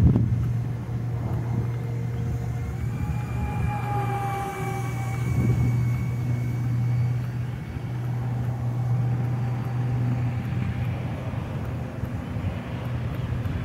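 A Dynam twin 64mm electric ducted fan RC jet makes a slow pass with partial flaps, its whining turbine-like whoosh rising and falling in pitch over steady wind noise, fairly close and continuous, with no voices.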